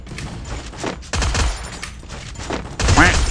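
Grenade blasts and gunfire in a mobile shooter game, a run of sharp bursts and heavy booms spread across the clip, loud and close, with players' voices and game sounds over them.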